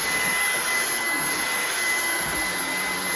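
A Ryobi 18V ONE+ cordless stick vacuum runs steadily on a small bathroom-style rug, giving a loud, close, continuous motor whine with a bright high-pitched tone throughout.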